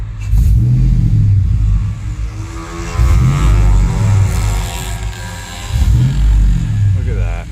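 A 2005 Chevrolet Tahoe 5.3L V8 4x4 with a stalling fault gets three quick throttle snaps, each a loud, close rev that rises and falls back to idle, with someone talking between them.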